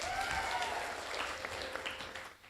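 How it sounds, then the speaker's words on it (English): Quiet applause from an audience at an international students seminar, soft continuous clapping heard from a distance with a faint tone running beneath, fading toward the end. "Once again, give a big applause."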